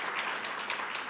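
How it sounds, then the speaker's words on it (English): A conference audience at a computer science education event applauds sponsors, a dense steady round of clapping throughout. "please let's give a round of applause for our sponsors."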